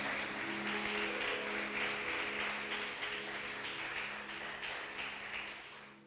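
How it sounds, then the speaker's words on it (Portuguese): Church congregation applauding during a worship service, a broad sustained wash of many hands clapping that stays full and steady before easing slightly toward the end. "Você pode aplaudir a Ele pela sua palavra?"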